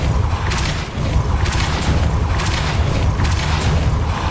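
Repeated Depulso force spell casts in Hogwarts Legacy, landing as a run of loud, close booming bursts about once a second over a dense, rumbling game soundscape.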